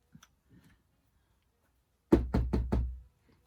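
A Stickles glitter bottle of silver glitter glue tapped on a cushion: four dull, close knocks in a quick even rhythm after faint small handling noises.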